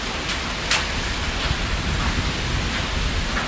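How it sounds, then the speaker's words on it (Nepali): Strong gusty wind before rain shakes trees outdoors, making a constant loud roaring rush with brief stronger gusts and no voices. "हावा कस्तो डरलाग्दो आउँदैछ।"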